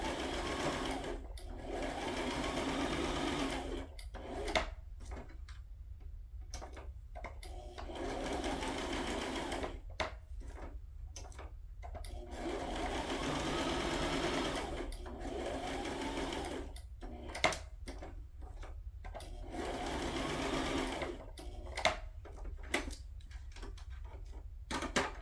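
A sewing machine stitches a wonky decorative line in repeated runs of rapid mechanical chatter, broken by short pauses and faint clicks, heard close over a low background hum.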